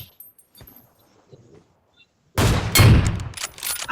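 Burst of gunfire in a video game, a loud dense volley of shots following a quiet stretch.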